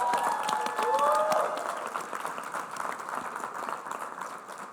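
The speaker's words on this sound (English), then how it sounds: "could we just give another round of applause to..." Conference audience at an environmental education gathering applauding, a dense wash of clapping that swells early and then tapers off, with a few voices or cheers mixed in.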